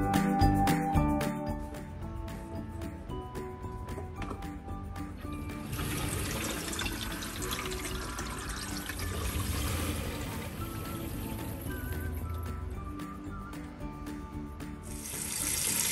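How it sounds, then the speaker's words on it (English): Water runs steadily from a tap through a newly installed household water filter into a sink, a continuous hissing splash that swells midway and carries on. "Let the water run for 1 minute before using it"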